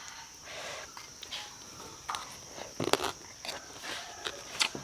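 Crunchy bites and chewing of a Thai-style vegetable curry with red ant eggs and fresh acacia leaves, eaten with fermented crab sauce and grilled buffalo skin; soft, close mouth sounds with a few sharper crunches, no talking.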